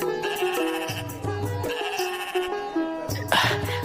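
Several sheep bleat in repeated wavering calls, close and fairly loud, with overlapping harmonic cries and a brief noisy burst near the end, heard alone without talk.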